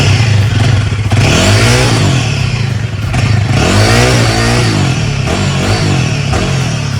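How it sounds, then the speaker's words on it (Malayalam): Royal Enfield Himalayan 450 motorcycle engine revved with the throttle, loud and close, rising and falling through repeated blips over a steady idle with no talking. "നെക്സ്റ്റ് ഞാൻ എന്തായാലും ത്രോട്ടിൽ ചെയ്ത് നോക്കാം എങ്ങനെ ഉണ്ടോ നോക്കാം കേട്ടോ."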